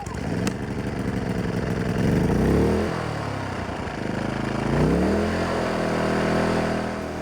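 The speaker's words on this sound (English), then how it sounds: "And then I usually just do 1 big pull and it'll fire right up." A Power Smart 2500 inverter generator starts on a pull and runs at high RPM, its small engine droning steadily with rising and falling revs, close and fairly loud, with no talk.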